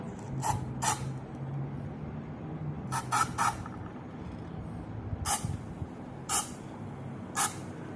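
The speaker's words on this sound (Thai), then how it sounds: "เดี๋ยวผมจะฉีดให้ดู ฉีดไม่ต้องเยอะครับไม่ต้องเยอะค่อย ๆพ่น" A solvent spray aimed at the base of a Nokia N72 phone battery to loosen its glue comes in about seven short hissing bursts, some in quick pairs, against a quiet background.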